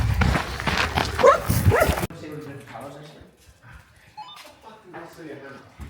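A dog on a sheep farm during mustering gives a few yips and whimpering barks, close by and mixed with people talking over it, louder at first then fading into quieter scattered sounds.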